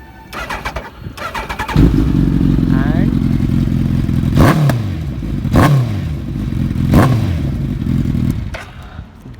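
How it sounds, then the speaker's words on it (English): A Suzuki Hayabusa on its stock exhaust, in neutral, cranks and fires into a loud, close idle, then three sharp throttle blips rise and fall over the steady rumble, with a voice briefly audible. "I know you guys are extremely excited to hear the exhaust note of the bike."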